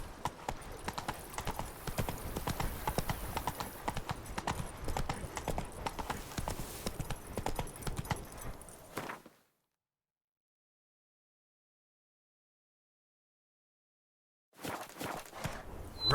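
Horse hooves galloping in The Witcher 3, a steady rapid clip-clop run for about nine seconds, then a long silence before the hoofbeats briefly return.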